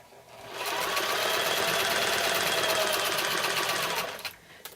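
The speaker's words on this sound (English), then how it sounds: "press your foot down, and we'll sew our first seam" A sewing machine sewing the first seam of an uneven nine-patch quilt block, one continuous loud, even run of rapid stitching lasting a few seconds before stopping.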